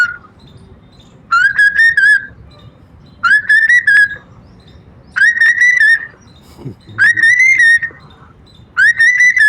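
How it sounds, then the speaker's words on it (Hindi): A small bird with a koel-like song, found across Uttar Pradesh and calling through the night, gives five loud, close, rising whistled phrases at regular intervals, separated by quiet pauses with low background noise. "इस तरह का जो आपके ये पक्षी बोलता है।"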